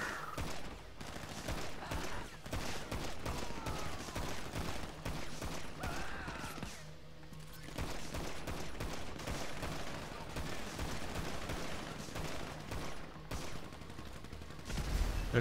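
Rapid bursts of gunfire from the video game GTA V in survival mode, dense volleys of shots and machine-gun fire running almost continuously and loud, with a brief lull midway.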